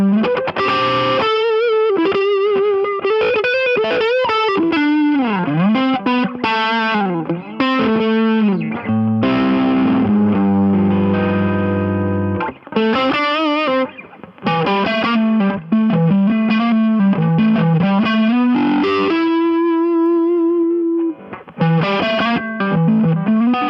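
An electric guitar on the neck pickup plays through a Mojo Hand FX Sacred Cow pedal on its lean setting, a loud, saturated lead with bends, slides and sustained notes running continuously with brief gaps.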